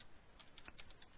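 Typing on a computer keyboard, a few soft, quick keystrokes in a short burst at low volume with no voices.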